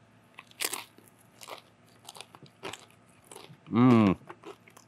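A mesquite-smoked serrano pepper is bitten and chewed, giving several close, sharp crunches followed by wet chewing. A contented hum comes near the end.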